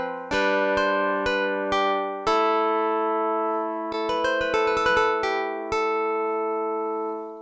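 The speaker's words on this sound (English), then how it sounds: "for my OP1, for example, that is going to sound like this" A Teenage Engineering OP-1 synthesizer plays dry with no effects, a run of clear tonal notes, a few spaced stabs and then a quick flurry of rapid notes, each ringing and decaying, close and alone.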